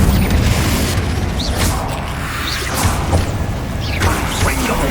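Confringo blast spells cast repeatedly in the game Hogwarts Legacy: a series of booming fiery bursts with whooshing flares, heavy thuds and crashes layered over constant combat din, fairly loud throughout.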